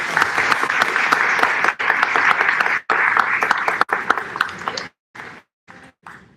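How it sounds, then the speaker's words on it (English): A graduation audience for 5th and 6th graders applauds with dense, steady clapping that continues for several seconds, then thins into a few scattered claps at the end. "please give these scholars a round of"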